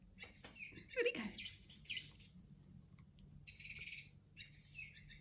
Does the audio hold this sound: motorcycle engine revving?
no